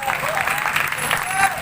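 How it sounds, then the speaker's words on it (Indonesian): Applause from an audience at a mosque gathering for an ustaz's sermon, a steady dense wash of hand claps throughout, with voices faintly mixed in. "Tepuk tangan juga"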